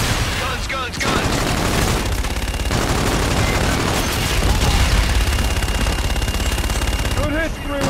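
Aircraft gun-run fire in the video game Call of Duty: Infinite Warfare: dense, loud rapid-fire bursts and booming impacts pound continuously for several seconds, with radio voices talking over the barrage.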